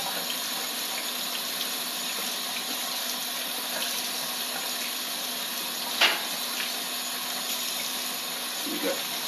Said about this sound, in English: I'm just going to run this under the water.